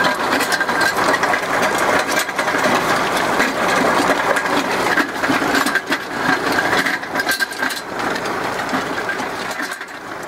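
A tractor dragging a box blade across a gravel driveway grinds and rattles continuously, loud and close, with engine drone under a dense scraping clatter of stones and no voices.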